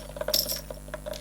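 Small metal charms rattle and clink together as they are shuffled in a bowl for a reading, a quick close cluster of jingling taps followed by a few scattered clicks.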